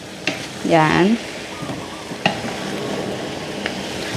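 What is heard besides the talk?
stirring meat with light soy sauce in a pan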